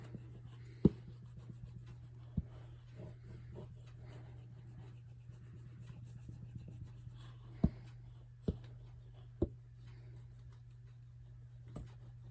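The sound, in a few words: writing numbers by hand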